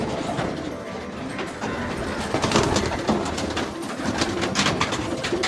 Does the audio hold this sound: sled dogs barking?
no